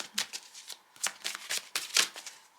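Tarot cards shuffled and drawn by hand, a quick run of crisp riffling flicks and soft slaps in an irregular rhythm, close and fairly quiet, with no voice.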